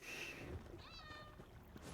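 A cat in a video game meows once, faint and drawn out, over a steady low background hum.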